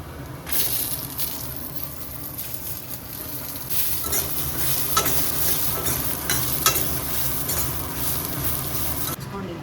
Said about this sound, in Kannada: ಸ್ವಲ್ಪ ಕರಿಬೇವು, ಈರುಳ್ಳಿ ಹಾಕೊಳ್ಳೋಣ